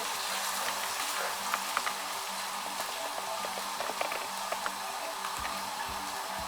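Garlic frying in a pot for a shab daig dish, giving a steady, even sizzle with scattered small crackles and pops throughout, fairly close and moderately quiet, with no voices.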